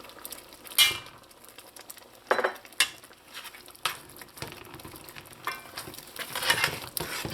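A spoon stirs geera into thickened curried channa in a pot, giving intermittent scrapes and soft knocks against the metal with a faint simmering bubble between strokes.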